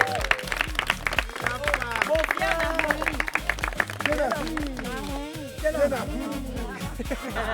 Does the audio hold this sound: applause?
yes